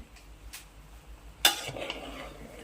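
Egg uggani being gently stirred in a pan, with a sudden clink of the utensil against the pan partway through followed by soft scraping and a faint sizzle, close and fairly quiet.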